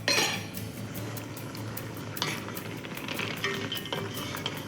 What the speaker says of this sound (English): So, let's add the clams